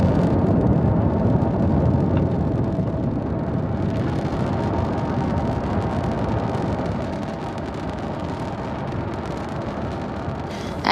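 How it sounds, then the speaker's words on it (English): A SpaceX Falcon 9 rocket ascending from Space Launch Complex 40 at Cape Canaveral, a loud, dense, crackling roar that rumbles steadily and eases slightly as it climbs away. "Falcon 9 has successfully lifted off from Space Launch Complex 40 at Cape Canaveral Space Force Station"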